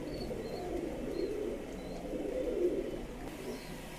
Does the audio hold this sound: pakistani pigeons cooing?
yes